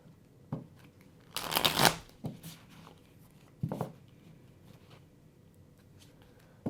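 Tarot cards being shuffled nearby: a loud riffling burst in the middle, with several shorter papery snaps and taps before and after, no talking.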